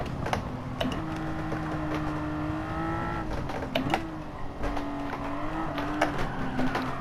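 A Porsche 911 in Gran Turismo 7 drifts at low speed, its engine note holding a steady droning tone that rises and dips with throttle, with clicking and tapping sounds over it, no voices.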